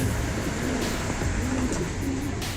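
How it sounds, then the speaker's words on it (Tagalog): A pair of Belgian homer pigeons, a white hen and a black cock, coo in repeated soft low phrases against a steady loud hum of background noise, with no talking. "Ayan, nandito sila mga kalapatids."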